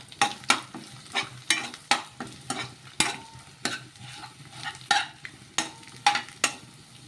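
A spatula is breaking an omelette into small pieces in a hot pan, making a steady run of close, rhythmic scrapes and taps against the pan over a soft sizzle, with no talking.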